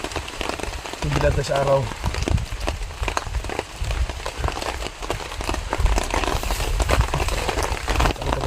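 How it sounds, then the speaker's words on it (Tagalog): Heavy rain pours steadily on a surface close by, a dense continuous hiss and patter with someone talking under shelter over it. "Kailangan ko lang magsilong dito kasi malakas yung ulan."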